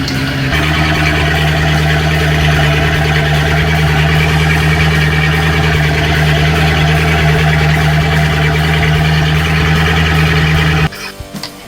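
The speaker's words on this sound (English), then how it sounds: "let the engine idle up here for a little bit" A loud, steady inboard boat engine idles on flushing muffs with a deep, constant hum and rumble for about ten seconds before cutting off abruptly, with no talking.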